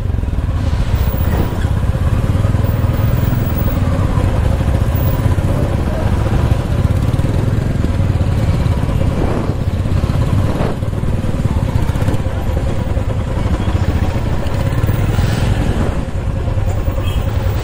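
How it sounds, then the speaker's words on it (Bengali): Seventeen motorcycles on a group ride in Arunachal leave together in a line, their engines making a continuous close, loud drone with passing revs and no break in the noise. "টোটাল 17টা বাইক, তাই তো? তো আমরা সবাই লাইন করে বেরোচ্ছি।"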